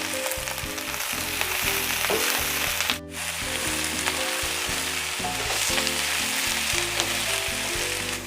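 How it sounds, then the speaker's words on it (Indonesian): Eggplant stir-fried with spices in a pan gives a steady, close hiss of frying, with scrapes and clatter from stirring throughout and a brief break partway through. "Saya tumis-tumis sampai terongnya setengah layu ya."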